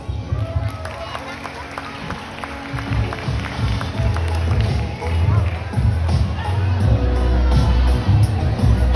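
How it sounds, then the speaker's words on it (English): At a bird show at Ocean Park, the crowd bursts into scattered, sharp clapping mixed with murmuring audience noise and a presenter talking over it, building louder toward the end. "So a round of applause, please."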